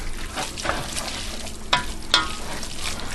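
Garlic sizzles and fries in a pan for sloppy joes, a steady crackling hiss with a couple of sharp stir clinks over it.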